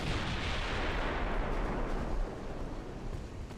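A heavy shell strike on an armored cruiser in the naval battle game Ultimate Admiral: Dreadnoughts, a broad booming blast that swells loud and then rolls off into a rumbling decay, with no voices.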